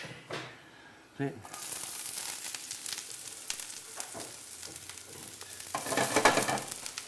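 Marinated ginger pork hits a pan with a little oil, a close crackling sizzle that builds and flares louder near the end, with brief rustles and stirring scrapes, while someone talks over it at points.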